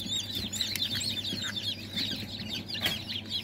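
Poultry cluck steadily in a farm coop, many birds murmuring and clucking together at close range in a continuous busy chorus, with no talk.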